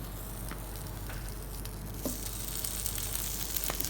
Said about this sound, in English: I'm going to put in the potatoes into this pan.